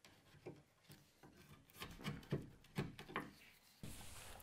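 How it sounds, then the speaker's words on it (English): Hand chisel cutting across the grain of wood for traditional joinery on a soccer goal frame: faint, scattered scraping and rasping strokes, some louder shaving bursts in the middle, then a steadier rub at the end, with no voices. "you want to come with the chisel across the grain as opposed to down the grain"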